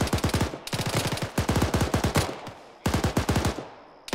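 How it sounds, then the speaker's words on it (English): Rapid bursts of automatic gunfire from a military game, aimed at a palm tree, loud and close in several long strings separated by short breaks. "Shooting the palm tree there"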